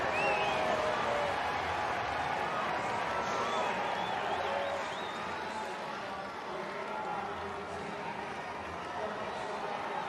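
A stadium crowd at the Commonwealth Games women's 10000m final gives a broad, steady roar of cheering that stays fairly distant, with commentators talking over it throughout.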